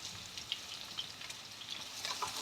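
Papaya, onion and green chili sautéing in a pan, a faint, steady sizzle with light crackles and soft stirring throughout.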